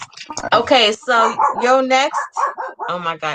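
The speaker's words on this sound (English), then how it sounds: "Let me go on mute so y'all don't hear my dog." A pet dog barks and yips in a home during a live group voice call, the short barks mixed in with loud, excited talking throughout.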